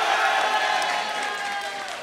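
An audience claps for debate finalists at a school debate final, a short burst of steady applause beneath an announcer's voice.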